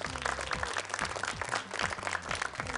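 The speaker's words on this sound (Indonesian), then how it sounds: "Boleh kasih tepuk tangan?" An audience applauds a young female Quran reciter at a televised recitation competition final, with dense, steady clapping throughout and a low voice or tones faintly underneath.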